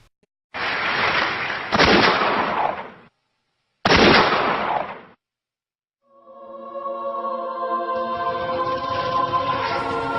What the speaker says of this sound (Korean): 어느 바닷가 모래밭에서 날카로운 총성이 울려 퍼졌다.